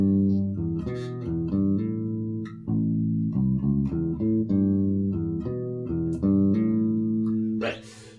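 Electric bass guitar playing a song's riff, a run of clear, close plucked notes and hammer-ons in a repeating pattern, with a bright scratch at the end.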